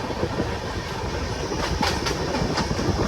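Passenger train running at speed, heard from inside as a loud, continuous rumble of wheels on track with rhythmic clickety-clack of rail joints.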